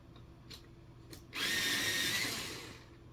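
A Polychromos colored pencil sharpened in an electric sharpener: two light clicks, then a close, loud whirring grind of about a second and a half that fades out.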